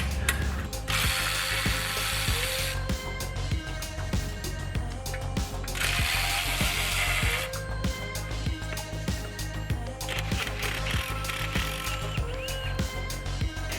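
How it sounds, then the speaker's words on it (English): A small electric ratchet spins out axle housing bolts on a paddock basher, giving a close, continuous whirring and clicking with a steady low mechanical drone. "So I got a little electric ratchet that will"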